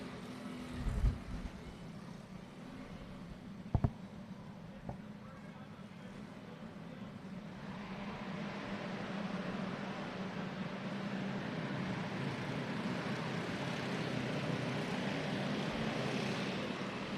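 Spec cage cars from the L87 class race around a South Texas dirt arena track, their engines a continuous droning roar that swells slightly over the clip, with a couple of brief knocks and an announcer's voice over the PA.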